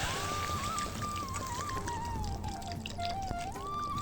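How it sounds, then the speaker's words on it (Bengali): Water is poured steadily into a pot of pointed gourd, vegetables and lentils, making a continuous close trickling, gurgling pour with a shifting tone that runs the whole time. "এবার আমরা দিয়ে দেবো পরিমাণ মতো জল।"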